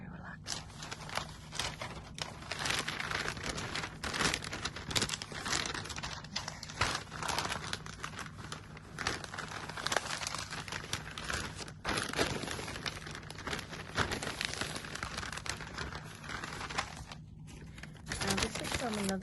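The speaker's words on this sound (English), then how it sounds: "if you do like the sound of crinkling paper" Paper crinkles and rustles continuously up close in crisp, irregular bursts, with a quiet voice now and then.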